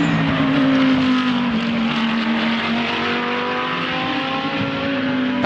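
A Porsche GT race car in qualifying at a GT World Challenge Australia meeting in Darwin, its engine droning loud and steady as it passes at high revs, holding one sustained tone with slight pitch shifts throughout.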